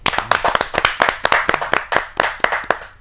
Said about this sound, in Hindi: आपके जोरदार तालियां मिले इस कवि को